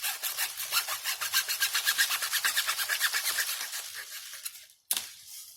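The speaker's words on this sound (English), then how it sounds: "We're going to get the handsaw here. And we're going to cut these bad boys." A handsaw cuts through tree branches in quick, regular back-and-forth strokes that rasp close by and slow toward the end. The sawing stops, then a sharp snap follows as the branch gives way.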